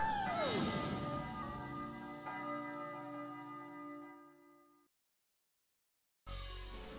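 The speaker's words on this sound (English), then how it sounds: "which we access by banging on this bell here" A bell struck in the video game Stretch Panic rings out with a bright, sustained metallic tone that slowly decays, falls silent, then a second strike begins; loud and close, with no talk.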